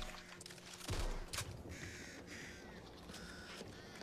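Crows caw in the Back 4 Blood video game, several harsh calls repeating over a dense, noisy game background, following a loud low thump near the start.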